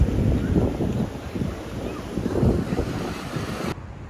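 Rough sea waves churning and washing in steadily over a stony shore in Sri Lanka, with heavy wind buffeting the microphone, fairly loud and continuous before cutting off abruptly.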